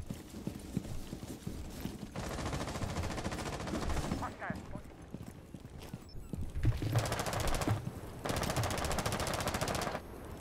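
Bursts of video game gunfire, rapid automatic fire in several stretches with short gaps between them, loud and near against a busy game soundscape, with players talking at times.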